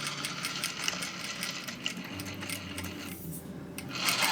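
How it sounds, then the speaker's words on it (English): A sewing machine backstitches along a seam of a full-length dress, a rapid close mechanical whirr of needle strokes running steadily with a brief slowdown and small clicks. "I'm just gonna back stitch along there."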